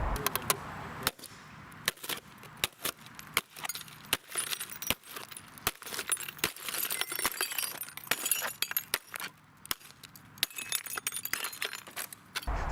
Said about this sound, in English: The glass was no match for the metal tip of the center punch.